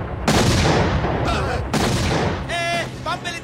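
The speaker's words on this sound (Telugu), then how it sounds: "బాంబు పేలింది." Bomb explosion effect in a Telugu comedy film scene: two loud, booming broadband blasts in quick succession, then a voice calling out over the fading rumble.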